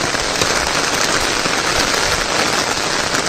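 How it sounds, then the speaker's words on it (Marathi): Steady, dense rain pattering loudly on a cashew plantation in the Konkan region, a continuous wash of noise with no voices. "पाऊस आलाय"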